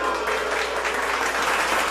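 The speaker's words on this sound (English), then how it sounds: "Wait, you're clapping and booing at the same time?" Comedy audience clapping and booing at once, a loud, continuous wash of hand claps blended with crowd voices, steady throughout the brief moment with no pause.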